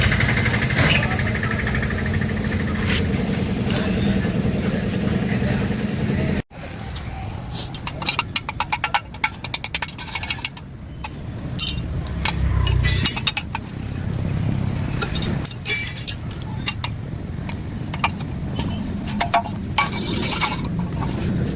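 A TVS XL Super two-stroke moped engine runs after its silencer has been cleaned, idling steadily and close by with a continuous low rumble, a brief cut around the middle, then a rough, uneven running stretch with small clinks.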